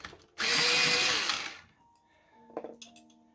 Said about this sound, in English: Go ahead and give it a little sharpen.